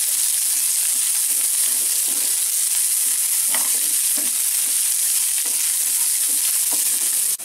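Vegetables sauté in a hot pan, a loud continuous sizzle with scattered utensil scrapes and light clinks throughout, no voices.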